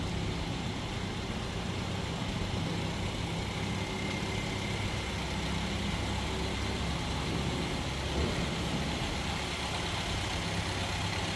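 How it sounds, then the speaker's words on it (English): The small 1500 cc inline four-cylinder engine of a 1959 Nash Metropolitan convertible idles steadily nearby, a constant low rumbling hum with no change in pace throughout. "Little inline 4-cylinder."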